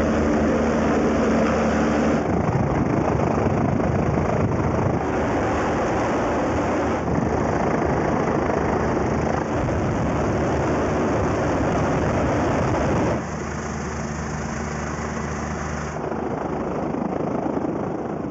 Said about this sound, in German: Festhalten jetzt, wenn der Hubschrauber kommt.